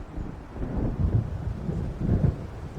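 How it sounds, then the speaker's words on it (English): Low rolling thunder from a storm building over a lake in the video game Alan Wake, a steady distant rumble with swells around the one- and two-second marks, with wind and light rain noise underneath and no voices. "It seems there's a storm coming."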